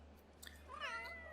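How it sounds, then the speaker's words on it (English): A cat in The Sims 3 lets out a single drawn-out meow after a faint earlier chirp, brief and fairly quiet against a low background hum. "the cats are so loud."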